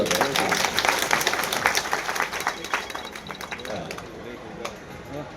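An audience at a devotional gathering claps in dense, loud applause that gradually thins and fades over a few seconds, with voices mixed in.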